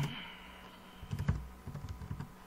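Typing on a computer keyboard, a few irregular quiet key clicks in short bursts, close by, with no one talking.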